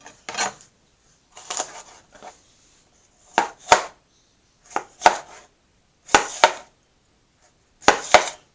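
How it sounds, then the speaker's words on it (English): A knife chops vegetables for an omelette on a board, with bursts of crisp taps in irregular groups and quiet gaps between them. "if you're cutting up small, just be careful with your knife"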